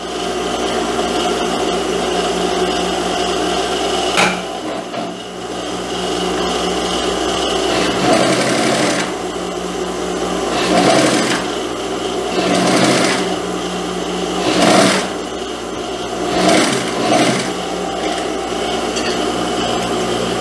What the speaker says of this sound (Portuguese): vou passar uma costura aqui para unir as duas partes.